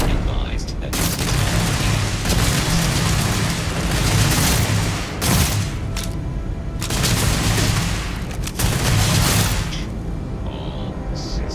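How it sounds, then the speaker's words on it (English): Naval gunfire and explosions in the game Crimson Fleet: rapid bursts of ship cannon fire and heavy booms pound continuously and loudly, with brief lulls between volleys and in-game voices heard over the battle. "Engaging the enemy. Opening fire."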